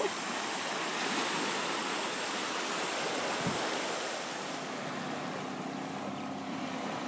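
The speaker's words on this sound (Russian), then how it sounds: "Здесь такие хорошие волны, не сильные." Steady wash of sea waves rolling onto a beach, a continuous broad rushing hiss with no voices.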